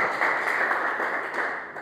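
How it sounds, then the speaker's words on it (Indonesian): Church congregation applauding together, a steady, dense wash of clapping that stays loud and even throughout without voices. "Beri tepuk tangan terbaik buat Tuhan Yesus Kristus"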